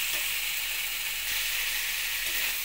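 Potato, pointed gourd and soybean chunks sautéing together with spices in a pan, a steady, even hissing sizzle with no talk.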